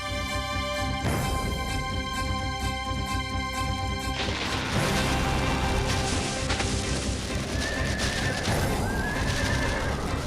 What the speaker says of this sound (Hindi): घोड़ा आगे जाने से डर रहा है।